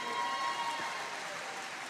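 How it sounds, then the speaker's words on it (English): Audience applause before an ice show, a soft, even wash of clapping from a crowd at some distance, steady throughout the short stretch. "So how about a round of applause for Rich for stepping in with us today?"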